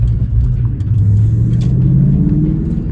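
A 1999 Ford Mustang GT drives at night, its engine a loud, steady low rumble from inside the car, with a gentle rise in pitch as it pulls along.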